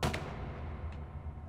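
A gunshot bursts from the Assassin's Creed Chronicles India video game, a single sharp, moderately faint blast at the start that decays into a low rumbling tail.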